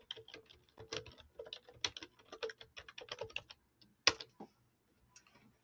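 Rapid typing on a computer keyboard, a close, irregular patter of key clicks with short pauses and one louder clack near the end, no talking.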